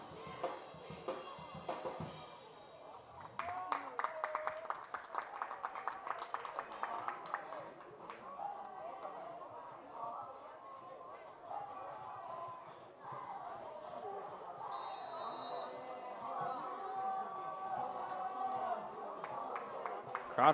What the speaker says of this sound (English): Crowd fired up here at Concordia Chicago.